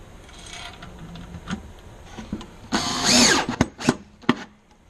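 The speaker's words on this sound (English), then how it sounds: "I'm going to go ahead and just sink in the rest of the screws." A power drill drives screws into a base plate, with a few short whirring bursts and then a longer, louder spin that climbs in pitch, followed by brief clicks and knocks, all close by.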